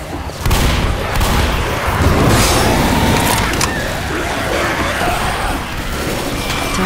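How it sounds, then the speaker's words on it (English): A grenade explodes in a frantic video game finale, a loud sustained boom and crashing rumble that fills nearly seven seconds with dense, roaring noise. "Grenade!"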